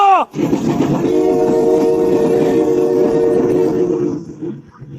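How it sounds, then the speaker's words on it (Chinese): A train rumbles loudly close by, a sustained droning whistle tone riding over the heavy roll of the wheels before it eases off. "车轮越转越快，从走路的节奏瞬间化作奔跑的小跑， 最终沿着铁拐轰隆开出去"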